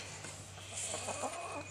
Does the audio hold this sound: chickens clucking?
yes